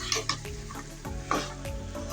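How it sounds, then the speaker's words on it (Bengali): Chicken with chopped green chillies frying in a pan, a steady sizzle punctuated by several sharp spatula scrapes and stirring knocks, close and fairly loud. "তো এভাবে করে চিকেনটা আমি কষিয়ে নেব।"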